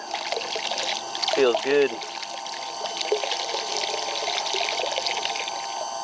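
Hot water pours steadily from the output of a Gasland BS318 tankless water heater filling a stock tank pool, a continuous splashing trickle close by, with a short spoken remark over it.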